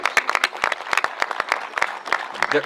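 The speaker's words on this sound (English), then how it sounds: "yes, another round of applause." A small group claps in scattered, uneven bursts, sharp individual claps close together, with no cheering.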